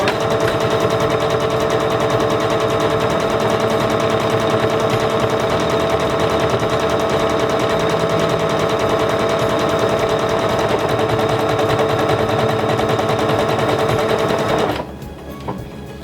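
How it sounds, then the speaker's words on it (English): A SINGER Confidence 7640 sewing machine stitches a buttonhole with a loud, continuous rapid mechanical rattle that runs steadily for about fifteen seconds, then stops abruptly, leaving quiet room noise. "Lower the presser foot lifter and start sewing."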